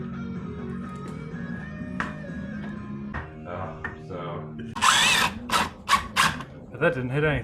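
A power drill pre-drills into the wooden frame of a new entry door being installed, giving several loud, short whirring bursts in quick succession near the end, after quieter handling sounds.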